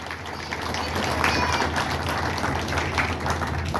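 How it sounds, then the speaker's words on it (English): Audience applause for the newly crowned 2024 Miss Rockabilly Ruckus at a vintage fashion show in Ohio, steady crowd clapping throughout with a low hum beneath and a few faint voices mixed in. "Let's give her a round of applause as she comes up."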